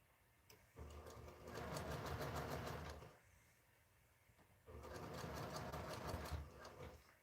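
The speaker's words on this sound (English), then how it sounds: "So this sewing part goes a little bit faster when you have it prepped and ready" A sewing machine stitches fabric scraps for a quilt in two quick bursts of rapid whirring, pausing briefly between runs, close and fairly quiet.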